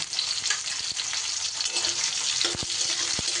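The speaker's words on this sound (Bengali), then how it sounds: "সবজিগুলোকে আমি খুব ভাজা ভাজা করব না" Vegetables fry lightly in a pan, a continuous bright sizzle with light taps and scrapes from stirring near the end; no talking.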